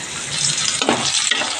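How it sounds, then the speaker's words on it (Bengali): Hog plums fry in a little hot oil, giving a dense, loud, continuous sizzle with brief bursts of spatter as they are stirred in the pan. "আমরাটাও লাল লাল করে ভেজে"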